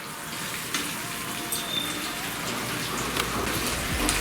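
Ginger chicken with tomato and soy sauce sizzles and fries steadily in a pan, a dense, close crackling hiss with occasional soft scrapes as it is stirred.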